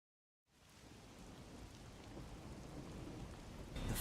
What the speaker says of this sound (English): The faint sound of a ticking clock melts against the sound of rain.